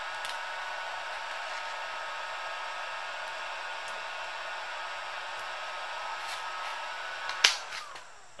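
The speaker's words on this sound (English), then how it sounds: "I'm going to take a heat gun and just heat this film up a little bit" Heat gun blowing hot air while heating a headlight film overlay on a Subaru WRX STi, a steady, airy whoosh held for several seconds before a short handling noise near the end, no voices.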